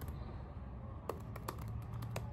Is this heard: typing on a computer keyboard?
yes